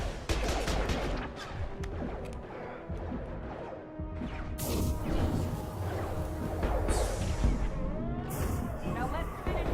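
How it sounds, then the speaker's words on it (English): Heavy gunfire in Mass Effect 2 crackles in loud, dense bursts with crashing impacts across a long combat stretch, while voices talk over the shooting. "Taking heavy fire."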